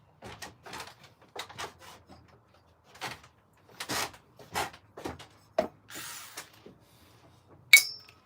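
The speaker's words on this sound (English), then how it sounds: "Put everything in my crating box, ready for the rebuild. Let's put all the screws in." Small metal screws from an RC car teardown dropping and clinking into a storage box, a series of sharp scattered clicks and rattles at an irregular pace, close and fairly quiet, with no voices.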